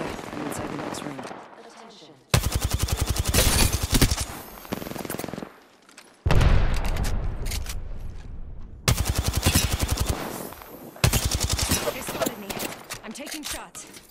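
Video game gunfire, several long bursts of rapid automatic shots cutting in and out, loud and close, separated by brief pauses, with a voice speaking in the game.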